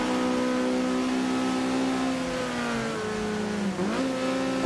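A race car engine in Forza Horizon 2 holds a loud, steady drone, its pitch sagging gradually and then dipping sharply and climbing back as the revs change, with no voices over it.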